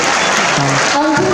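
Applause rings out in an auditorium at a district-level job-fair ceremony in Jaipur as appointment letters are handed out, a short, loud burst of clapping with voices mixed in.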